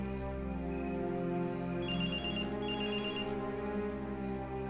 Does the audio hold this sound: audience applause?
no